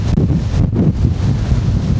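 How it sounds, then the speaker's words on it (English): Gusty wind blasting across an exposed clifftop roars steadily into the microphone, with loud low rumbling buffets that rise and fall throughout and no other sounds. "It's quite a gusty breeze."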